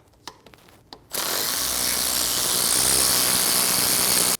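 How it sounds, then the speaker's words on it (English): A top alternator bolt is loosened with a power tool on a 2.5L five-cylinder VW Passat of the 2012-2022 generation, opening with a few soft clicks before a loud, steady high-pitched whir runs for about three seconds and cuts off. "Remove the top bolt"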